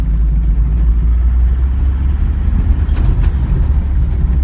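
A Ford Transit Mk 7 van with a freshly refurbished engine drives around a field, its engine rumbling steadily and loudly throughout with a deep, constant low drone and no talking.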